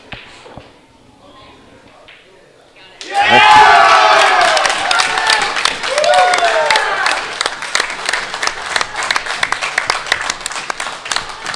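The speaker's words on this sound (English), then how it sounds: "You gotta love it when the hometown crowd gets into it." Hometown crowd at a bar during a curling championship bursts into loud applause and cheering after a quiet start, with sustained clapping and shouts filling the room and continuing in rough waves.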